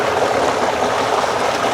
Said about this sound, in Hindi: यहाँ पे देखो भाई मंदिर की सीढ़ियों से भी पानी आ रहा है, ये देखो कितना पानी आ रहा है